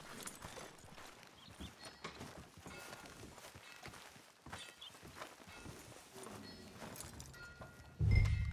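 A horse walks in Red Dead Redemption 2, with soft, irregular hoof clip-clops against a busy background, ending in a sudden low thump.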